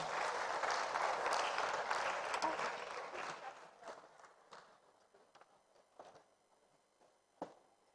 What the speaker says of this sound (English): Another warm round of applause for our final trainer, Margaret Pender.